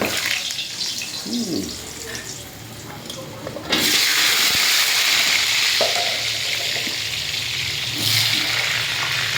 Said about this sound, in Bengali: প্রথমে আলুগুলো ছাড়া হচ্ছে দেখুন কি সুন্দর